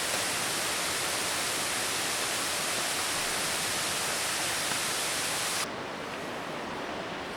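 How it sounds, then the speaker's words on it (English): Heavy ocean waves on the Napali Coast of Kauai, Hawaii, heard as a loud, constant roar of surf that drops a little in level near the end. "Some serious waves."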